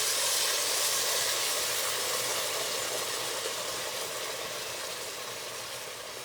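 Water poured into a hot pot of Persian onion soup hisses and steams loudly, a broad rushing sizzle that slowly fades over several seconds.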